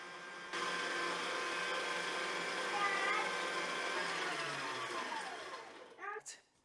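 Electric whisk whipping butter in a bowl for a lime and butter cake, a steady loud motor whir that starts abruptly, runs for several seconds, then cuts off, followed by a few brief clanks.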